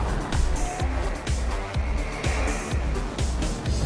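A 2011 Kia Optima SX Turbo powering through a corner under throttle, engine note rising and falling with gear-like pulses and a hint of tire noise, heard from inside the car.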